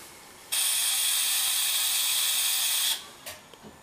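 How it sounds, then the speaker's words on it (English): Simulated brake grinding from a PRR M1 steam locomotive in a train simulator game: a loud, steady high-pitched metallic hiss-grind holding for about two and a half seconds, then cutting off with a few faint clicks after. "So for brake grinding noise,"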